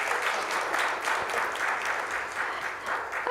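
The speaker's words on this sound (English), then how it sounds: "Can we have a huge round of applause for Ms." Conference audience applause at a marketing summit in Mumbai, a full room clapping steadily and warmly for the whole stretch, with a slight swell and dip but no pause.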